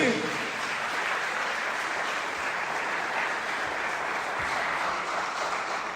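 A church congregation claps steadily in praise to God, a dense, even wash of applause that carries through the whole stretch, with a voice faintly audible underneath.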